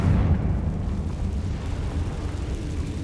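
A Confringo fire-spell explosion goes off in the video game Hogwarts Legacy. A deep, rumbling boom opens loud and trails off into a low roar over three seconds.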